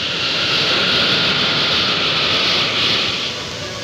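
A jet airliner flies overhead with a loud, broad roaring rush and a bright hiss, sustained and steady before easing slightly near the end, with no voices.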